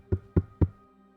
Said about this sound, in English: A knock comes from it.